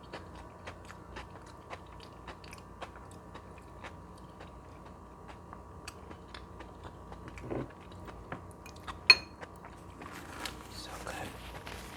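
Homemade potato salad is eaten close to the mic, with faint, soft bites and chewing clicks scattered over a quiet room, plus a louder bite near the end.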